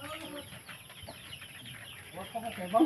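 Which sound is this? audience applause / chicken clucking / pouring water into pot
chicken clucking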